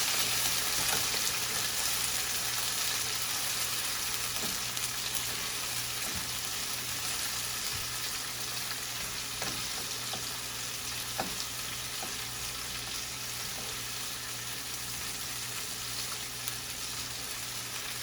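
Food sautés in a mix of olive, sunflower and garlic oil, giving an even, continuous sizzle close by with a few faint clicks of utensils and no talking.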